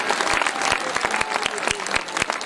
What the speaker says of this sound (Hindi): एक बार जोरदार तालियां पूरे वॉरियर सिस्टम के लिए